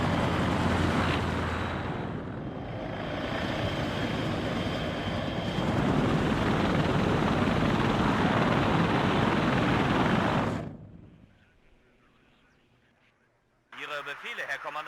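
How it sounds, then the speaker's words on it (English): BO-105 helicopters flying in during an air assault in the video game WARNO, a loud, dense engine and rotor roar lasting about ten seconds before cutting off abruptly, followed by near silence and then other game sounds. "All the helicopters moving in. Proper air assault."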